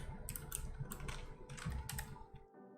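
A computer keyboard is typed on in quick, continuous clicking bursts for a few seconds, close and fairly clear, before stopping abruptly.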